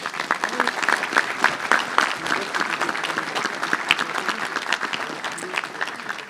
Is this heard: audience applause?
yes